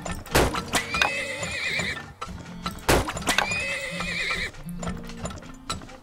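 Horses neigh loudly in the Turmoil video game, two long whinnies over a steady clip-clop of hooves and busy game sounds.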